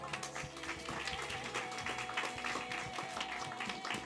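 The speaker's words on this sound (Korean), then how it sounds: "다 같이 박수 한번 칠까요?" A youth worship congregation claps together, a dense, steady patter of many hands filling the room for several seconds, with faint background sounds mixed in.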